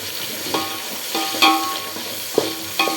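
Onions and tomatoes sauté for a vegetable biryani, a steady close sizzle broken by several sharp scrapes and clatters of a spoon stirring against the pan.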